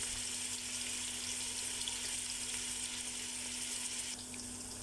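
Chopped onion sizzles in a hot pan alongside ginger, garlic, carrot, potato and capsicum, a steady hissing fry held at an even level close by, with a low hum underneath.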